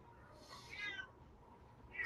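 A single drawn-out meow from a house cat, fairly faint and indoors, followed by the start of a second cry; no talking.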